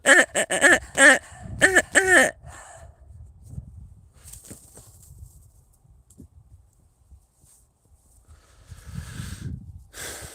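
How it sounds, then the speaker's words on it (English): A pig snorts in a quick burst of several loud, close grunts, then falls quiet with faint rustling before soft huffing breaths return near the end. "Or are you talking about this pig?"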